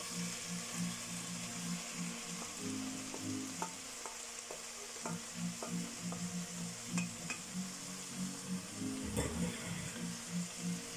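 Finely sliced leeks and potatoes fry in a pan for a leek and potato tart, a steady close sizzle with scattered clicks and scrapes of stirring throughout, no voices.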